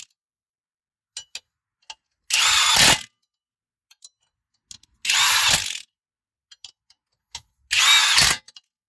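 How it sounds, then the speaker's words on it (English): A Milwaukee impact tool running down brake caliper bolts on a car, three separate loud bursts of roughly half a second each, close up, with small clicks and handling noises in the quiet gaps between them. "I didn't hammer down on that a lot with the Milwaukee because I want to feel how tight they are."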